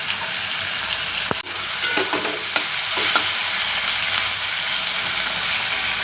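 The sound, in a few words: frying chopped tomato and green chillies in pan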